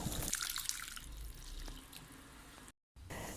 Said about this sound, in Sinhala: කිරි ටිකත් ඒකට දානවා.